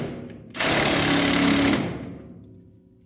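A power tool tightens bolts on a utility trailer being rebuilt: a single rattling burst of a little over a second, loud and close, then a fading whir as it spins down.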